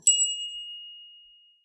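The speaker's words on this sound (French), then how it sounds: "tu prends la cloche et tu la sonnes" A small bell struck once during a protection ritual, giving one clear bright ring that fades slowly over about a second and a half, heard alone.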